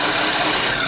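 A drill press bores into wood with a steady, loud, close whirring grind that holds without a break for the whole moment.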